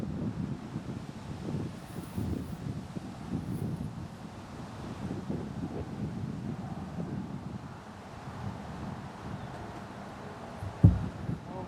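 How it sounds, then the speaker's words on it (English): Steady wind gusting across an outdoor disc golf course, a continuous broadband rush with low rumble that swells and eases over the whole stretch, ending in a brief sharp thump. "this is a tough one, especially with that wind coming in"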